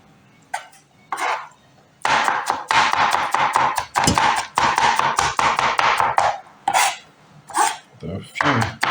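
Pickles diced with a knife on a cutting board for potato salad: a fast, steady run of crisp chopping taps up close, bracketed by a few isolated knocks.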